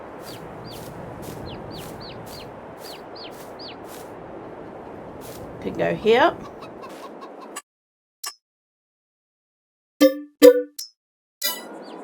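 Chickens in a farming video game cluck in a repeated, chirpy pattern over a low ambient hum, followed by a few short game dings and plops after the background cuts out, with a brief spoken comment.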